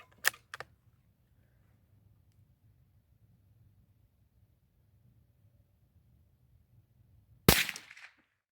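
A .22 LR rifle fires 40 grain Winchester Wildcat ammunition: two quick sharp cracks at the start, a long quiet pause, then a louder single shot with a brief trailing echo outdoors.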